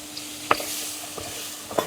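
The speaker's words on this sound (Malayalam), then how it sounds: "മുളക് പൊടിയും മഞ്ഞപ്പൊടിയൊക്കെ നന്നായിട്ടൊന്ന് മൂത്ത് വരട്ടെ." Chili and turmeric powder fry in oil for a fish curry, giving a soft, steady sizzle with a couple of sharp scraping stirs of a spoon in the pan.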